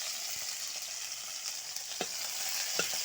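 Onion and tomato fry together in a pan, producing a steady, bright hiss of sizzling with a few faint scrapes and taps of stirring, close and continuous, no voices.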